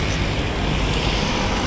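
River waves slap hard against the Pasig River esplanade, a continuous loud wash of churning water and wind noise close to the microphone with no voices.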